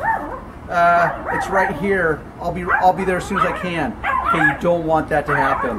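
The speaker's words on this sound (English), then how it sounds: "Sorry about the dogs." Several dogs bark and yip repeatedly in a rapid, overlapping series close by, while someone talks on the phone over them.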